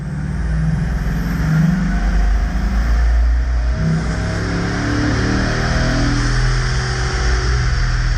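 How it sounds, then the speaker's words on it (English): A Bugatti Chiron accelerating hard up to about 200 km/h on a factory test run, heard as a steady, loud, sustained engine roar with no pauses. "The employee accelerates up to 200 kilometers an hour."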